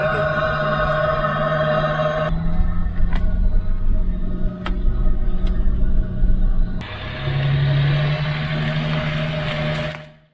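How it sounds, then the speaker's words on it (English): A Land Rover Discovery 3 running with a snorkel air intake, a steady low engine drone and rumble with a whooshing intake tone that shifts in character partway through before the sound cuts off at the end. "Oh, don't you like the sound of my snorkel?"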